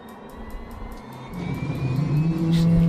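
A helicopter starter spins up during a cold-and-dark start of a 500C / OH-6A in Microsoft Flight Simulator, with a whine rising in pitch and volume over a few seconds above a low rumble and a rapid ticking pulse.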